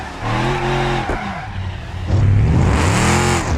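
A Volvo's engine in a driving simulator video game roars with rising and falling revs, a loud raspy exhaust note close up, swelling louder in the second half.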